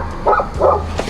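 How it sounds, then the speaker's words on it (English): Several dogs barking indoors in short yapping bursts, two clear barks close by over a steady low hum, with no talking. "So sorry about the dogs."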